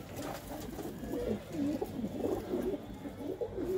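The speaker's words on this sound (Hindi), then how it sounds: "ये देखो जी ये कबूतर है" A pigeon at a Ludhiana bird sale coos close by in repeated rolling, warbling phrases that stand out clearly over a low background hum.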